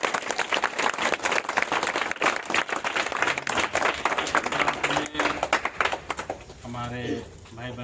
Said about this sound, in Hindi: हम लोग तालियां बजाकर